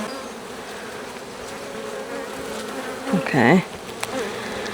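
Honey bees buzz steadily around an opened apiary hive frame with new comb and brood, a close, dense hum with one bee swooping louder past near the end; a person briefly speaks.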